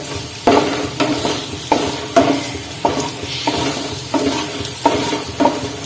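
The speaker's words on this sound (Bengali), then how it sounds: "তো আলু ভাজা হয়ে গেছে হালকা হালকা" Potatoes frying in a pan, with a steady loud sizzle under regular stirring strokes that scrape and clack against the pan about once a second.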